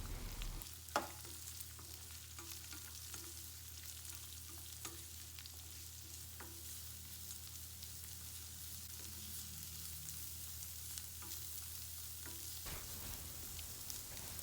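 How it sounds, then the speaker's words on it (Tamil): Chopped shallots and curry leaves sauté in a pan, giving a faint, steady sizzle throughout with occasional soft clicks of stirring. "வெங்காயம் நல்லா ப்ரௌன் கலர் ஆகிற வரைக்கும் இதை நான் நல்லா வதக்கிக்க போகிறேன்"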